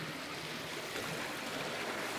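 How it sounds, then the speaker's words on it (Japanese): Large canal water flowing in a residential area of Otsu, Shiga, a steady, even rush of water with a broadband hiss throughout and no voices. "ここにね大きい疎水が流れてて"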